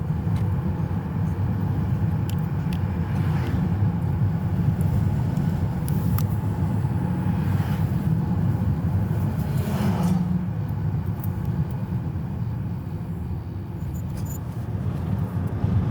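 A 2023 Mazda CX-50 on the move, with steady road and tyre rumble and a low engine hum throughout, close and continuous, with no talk.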